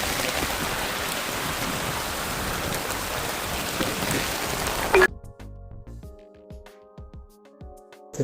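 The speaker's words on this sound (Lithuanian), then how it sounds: "bet šiltas lietus" Warm rain pours in a dense, steady hiss for about five seconds, then cuts to a quiet room with faint knocks and tones.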